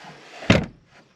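An under-seat storage door in a third-generation Toyota Tacoma cab opens with a single short thump and clunk, close and fairly loud, followed by a faint soft rattle.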